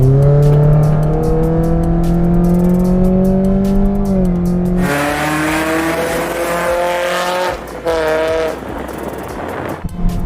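Modified Mitsubishi Lancer EX sedan revving hard in first gear, its engine note climbing loudly and steadily, then dropping into a rough, gravelly roar with shifting tone near the end.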